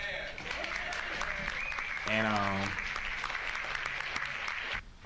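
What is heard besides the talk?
applause celebrating grandma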